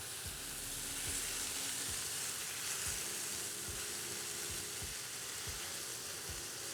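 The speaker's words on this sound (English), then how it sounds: "sear. It's searing." Beef rouladen sear in a hot pan with a steady, loud sizzle throughout, joined by scattered low knocks and scrapes from handling in the pan.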